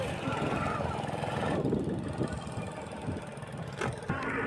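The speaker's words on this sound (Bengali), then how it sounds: "ওটিডিসির চিল্কা ট্যুরে যে নৌকা ব্যবহার করা হয় এর শব্দটা অনেক কম" A tour boat's engine drones steadily and fairly quietly on Chilika Lake, a low continuous rumble with water and open-air noise around it.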